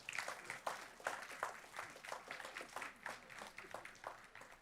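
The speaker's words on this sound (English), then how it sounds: "Let's give Barbara a big round of applause" Applause at a school board meeting for an honored school staff member, a quiet, somewhat distant patter of scattered clapping from a small audience that continues unevenly for several seconds.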